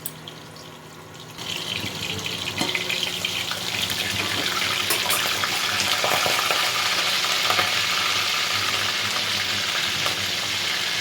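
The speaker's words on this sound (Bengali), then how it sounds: "ঢাকা দিয়ে আলুগুলো ভেজে নিই" Potatoes fry in a covered pan, a steady loud sizzle that rises once the oil catches and then holds as continuous crackling hiss, with a few faint clinks of utensils.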